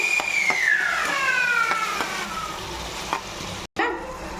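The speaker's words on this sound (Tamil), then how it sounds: "வெங்காயம் இந்த கலரில் வதங்கிடுச்சு" Onions sautéing in a pan for a dried fish gravy give a soft, steady sizzle with occasional spatula taps, while a dog barks and whines in the background and a brief cut of silence comes near the end.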